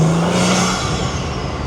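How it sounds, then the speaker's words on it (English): An Audi RS5 with a 034Motorsport turbo inlet and intake gives a brief near burst of turbo spool and engine roar lasting under two seconds, with a short whistling tone early on. "want you all to be able to hear the spool and the blow-off noises even better, I mounted a microphone on the outside of the car"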